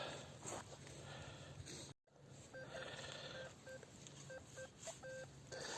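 Short electronic metal detector beeps in an uneven rhythm over outdoor beach background noise, interrupted by a brief dropout in the middle.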